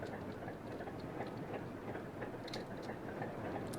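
A locomotive in the video game BeamNG.Drive rumbles steadily with faint rhythmic clicking and clattering of the rails, continuous and moderately loud throughout.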